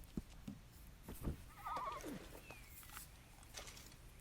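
A horse in Red Dead Redemption 2 gives a clear, close whinny, preceded by a few hoof clops and followed by light scattered clopping.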